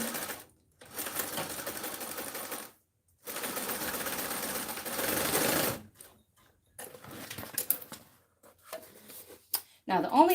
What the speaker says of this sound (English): so I'm going to add a stitch